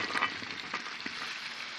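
Potatoes frying with coriander powder and salt in a pan, a steady soft sizzle with a few small pops, close and continuous.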